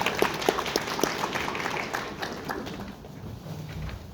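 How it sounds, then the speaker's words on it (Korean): An audience at a CES 2025 review talk in Gumi, Gyeongbuk applauds to welcome a reporter to the stage, brisk crowd clapping that starts full and gradually thins and fades over a few seconds. "여러분, 배옥진 기자님을 큰 박수로 맞이해 주시기 바랍니다"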